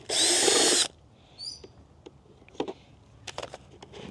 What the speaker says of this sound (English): Drill a few holes.